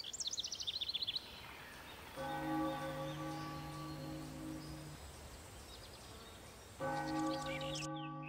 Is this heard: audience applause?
no